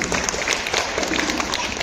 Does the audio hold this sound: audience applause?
yes